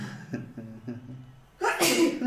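A single loud sneeze bursts out close by after a few seconds of quiet talking.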